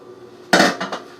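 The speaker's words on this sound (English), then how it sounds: "I'm actually going to turn it off and just put the lid on." A metal lid set down onto a pot of cooking broccoli, a sharp clanking contact followed by two quick lighter rattles as it settles, loud and close.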